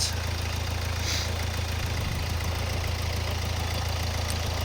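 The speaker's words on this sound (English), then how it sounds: "So right now the engine is running" A car engine runs steadily at idle, a constant low hum with faint higher whine, nearby and unchanging throughout.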